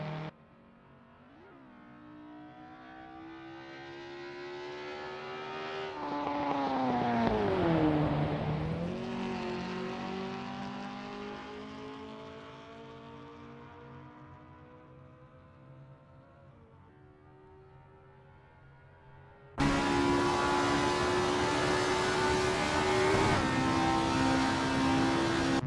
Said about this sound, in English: Joe Ergu's on the outlap, getting a taste of the tarmac